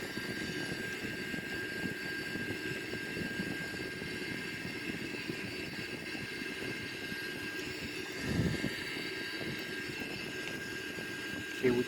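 Engines of an Airbus A340 in a flight simulator drone steadily during a climb, a constant, moderately loud whine and rumble with no talk.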